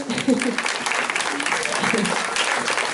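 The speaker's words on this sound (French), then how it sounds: "on peut l'applaudir" A small audience claps for a few seconds in a hypnosis therapy demonstration, steady applause while a voice talks over it.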